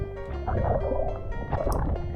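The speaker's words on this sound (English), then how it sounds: "So I put my GoPro on me and just jumped in the water and waded in it" Sea waves sloshing around a GoPro worn by a wading swimmer off Saint-Martin, a close gurgling, bubbling splash of water rising and falling in surges, with no talk.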